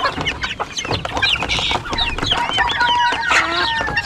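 Unvaccinated chickens on a farm with young chicks, a flock clucking and chattering continuously, close and fairly loud, with overlapping calls and higher peeping notes.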